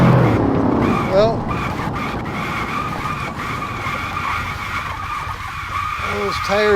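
Tires of a Mercedes-AMG C63 skid and squeal in a long, loud, sustained screech with engine roar underneath, rising again near the end, while someone talks.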